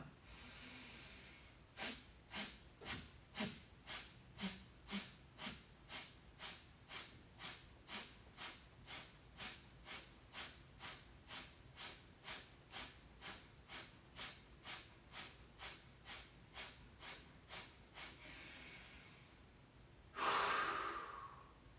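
Deep rhythmic yoga breathing while working the spine through flexion and extension, about thirty even breaths in a steady pulse, close and quiet, ending with a longer, louder exhale.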